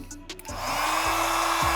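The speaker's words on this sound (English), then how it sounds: "Now I would use a heat gun." A steady electric heat gun blower hum starts after a brief rustle and holds at an even level, close by and alone.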